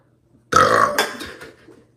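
A single loud, close burp erupts abruptly, starting with a sharp voiced rasp and trailing off over about a second with a gurgly tail.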